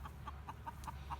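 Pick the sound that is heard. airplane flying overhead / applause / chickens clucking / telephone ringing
chickens clucking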